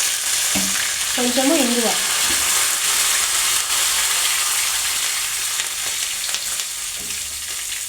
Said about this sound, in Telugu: ఇప్పుడు ఇది చిటపట అంటున్నాయి కదా కరివేపాకు